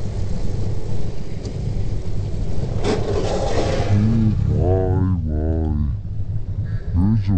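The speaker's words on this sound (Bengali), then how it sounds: "বৃষ্টি পড়ছে ভাই।" A steady, loud roar of rain and rushing wind while riding a superbike through a downpour, with a low rumble underneath. Excited voices rise over the noise in the second half.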